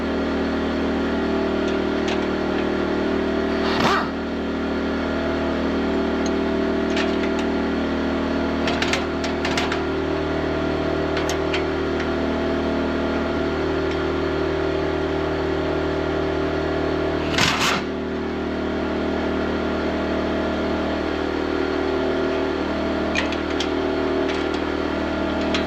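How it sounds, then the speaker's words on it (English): Generators powering a mobile dimension sawmill run steadily at high revs, a constant engine drone with faint clicks and knocks over roughly twenty-five seconds, no talking. "Unfortunately, I have to crank the generators up for this part."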